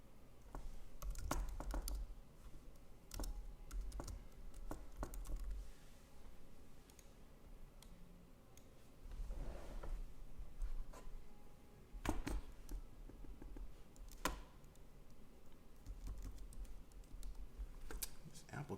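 Quiet clicking keystrokes on an Apple computer keyboard at a live tech event, in irregular bursts with short pauses, close and soft against a low room hum.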